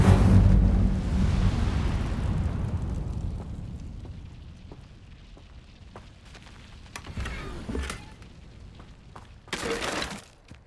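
An Incendio fire spell cast in Hogwarts Legacy, a loud whooshing burst of flame that roars then fades over several seconds, followed by sharper crackling spell effects and a bright burst near the end.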